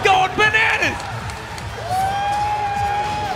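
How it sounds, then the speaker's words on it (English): A crowd at a Tekken 7 World Tour match roars and whoops during the final round, with loud cheering at the start and then a sustained din under shouts and tones from the game. "The crowd is going bananas."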